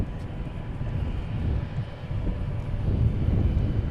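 An American Airlines jet departs from DFW International Airport, its engines a low, steady rumble that swells gradually from a distance, with some wind noise.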